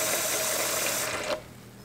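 Water runs from a kitchen sink faucet in a steady, close hiss, then cuts off abruptly near the end, leaving a faint background.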